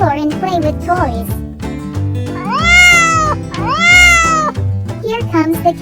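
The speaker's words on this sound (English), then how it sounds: "The cat says, "Meow."" A cat meows loudly several times in drawn-out, rising cries, with a voice also heard in between.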